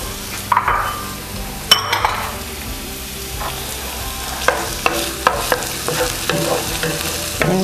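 Halved cherry tomatoes stirred around in a hot pan for a white wine fish broth, steady sizzling under repeated clinks and scrapes of the utensil against the pan, with no voices.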